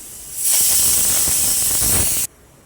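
A pressure cooker cooking dal khichdi lets off steam in a loud, close, steady hiss that starts abruptly, holds for about two seconds and cuts off sharply.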